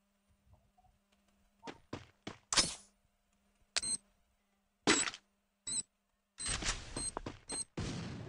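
Gunfire in the Free Fire video game comes as scattered sharp bursts, single shots and short volleys with quiet gaps between, ending in a denser stretch of rapid fire.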